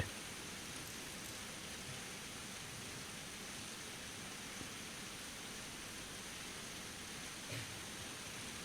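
Rain falls steadily during a Buddhist dharma talk, a soft, even hiss that stays constant and faint from start to finish with no voices.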